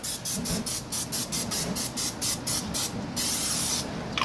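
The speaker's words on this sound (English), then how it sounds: "I like to actually spray my grill down a little bit with some Pam" Pam cooking spray hisses onto a charcoal grill outdoors in sunny Florida in a quick run of about a dozen short, evenly spaced bursts, then one longer sustained spray, loud and close with no voices.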